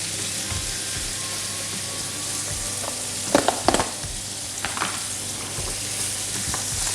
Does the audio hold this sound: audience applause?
no